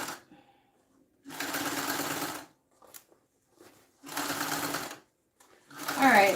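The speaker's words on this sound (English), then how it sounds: "I'm going over it so that I can get a second stitch on that connector" Sewing machine stitching over a fabric connector to put a second stitch through it, running in two steady bursts of about a second each with quiet pauses between and faint handling noise.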